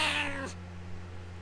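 A pet cat gives one clear, close, drawn-out meow that slides downward and stops, followed by a quiet steady hum.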